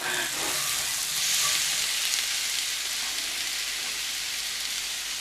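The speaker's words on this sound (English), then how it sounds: "I'm stirring this around so the potatoes don't catch on the bottom" Potatoes fry in a pan with a steady, close sizzle, and a few scraping stirs sound near the start before the hiss carries on alone.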